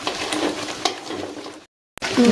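Jackfruit pulp sizzles and bubbles in hot jaggery syrup while being stirred in a pan, a steady close frying hiss with a brief scrape, then a short silence before the sizzle resumes.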